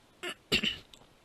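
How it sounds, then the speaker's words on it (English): Two short coughs from one person, the second stronger and rougher, close up in a quiet room. "excuse my coughing"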